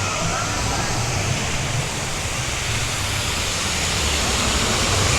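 Waterfall at Dollywood theme park, a steady broadband rush of falling water heard close and continuous, with faint crowd murmur beneath.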